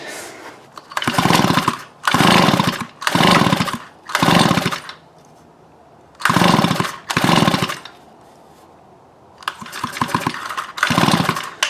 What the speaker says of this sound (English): So I guess we'll pull the string now and see if we see any spark